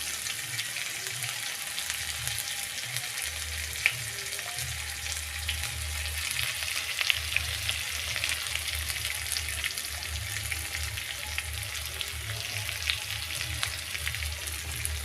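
Turmeric powder frying in a pan with other ingredients for a drumstick (sajna) recipe, an even close sizzle with occasional soft stirring scrapes and a low rumbling hum underneath, no voices.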